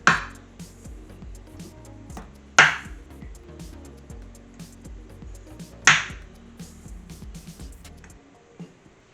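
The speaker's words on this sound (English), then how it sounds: "Now I'm going to separate some eggs." Eggs cracked against a hard edge for separating, three sharp crisp knocks spaced a few seconds apart over a quiet background.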